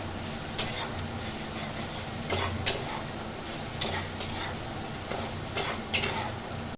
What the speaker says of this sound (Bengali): চলো এবার এটাকে একটু বাড়িয়ে কষিয়ে নেওয়া যাক